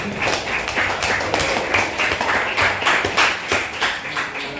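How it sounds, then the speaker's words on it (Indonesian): Classroom students clapping, a steady run of overlapping hand claps filling the whole stretch at moderate loudness, with no talk over it. "terima kasih tepuk tangannya untuk ini ya"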